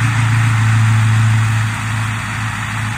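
A Ford 6.0 Powerstroke diesel truck engine with a new SCT X4 street tune runs with a loud, steady low drone that eases slightly about halfway through.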